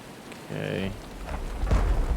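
Rain and rumbling thunder in the game Uru, a steady wash of rain with a low thunder roll swelling toward the end, close and fairly loud, alongside a brief tonal chime.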